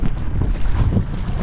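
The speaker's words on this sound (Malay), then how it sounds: "Ni pun angin nak start dah ni rasa." Strong wind buffeting a small fishing boat at sea, a constant rough roar and gusty microphone rumble throughout with no pauses.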